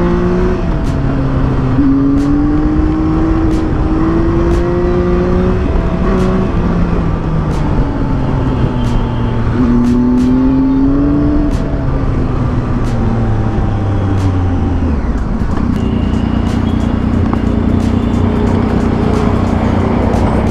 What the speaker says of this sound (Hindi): सुपर बाइक मान लो एडवेंचर कैटेगरी बाइक चला रहा हूँ